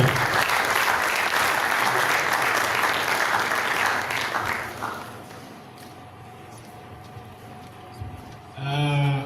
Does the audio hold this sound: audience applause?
yes